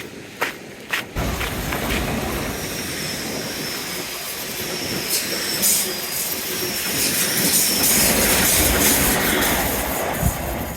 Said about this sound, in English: I heard the train